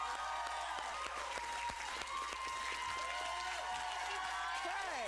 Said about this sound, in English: Guys, thank you for cheering for me.